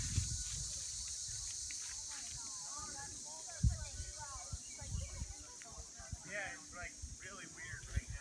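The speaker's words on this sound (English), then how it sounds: "Crickets are happening." Crickets chirp in a steady high-pitched drone outdoors during the 2017 total solar eclipse, with birds calling and people talking quietly underneath.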